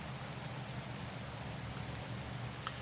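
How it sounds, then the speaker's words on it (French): Heavy rain falling steadily during a road cycling race, the French national championship at Cholet, a dense, even wash of hiss with no one speaking. "En tout cas, beaucoup de pluie."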